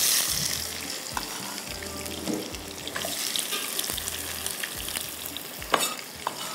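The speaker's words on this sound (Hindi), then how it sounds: "अब प्याज जा रहा है ऑयल के अंदर" Onions hit hot oil in a pan for beef malai qeema, a continuous crackling sizzle with intermittent scraping and stirring knocks, close and fairly loud.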